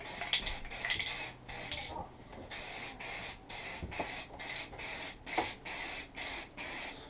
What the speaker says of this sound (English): we're going to go over these with some paint